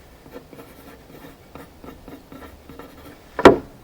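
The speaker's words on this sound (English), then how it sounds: "I will write on the bottom" Pencil writing on the underside of a wooden part of an old hospital lift table during restoration, a faint steady scratching of strokes ending in one sharp louder tap, alone without speech.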